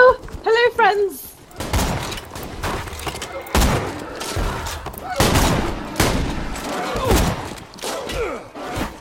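Rapid bursts of gunfire from the shooter game Borderlands 2, with repeated sharp shots and volleys across the clip and other game sounds mixed in.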